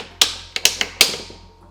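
Plastic front cover being snapped onto an electric household fan: five sharp clicks and clacks in an irregular cluster, each decaying quickly, close and fairly loud with no talk.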